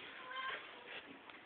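A cat gives a couple of short, soft meows close by, fairly quiet, with a faint bit of talk around them.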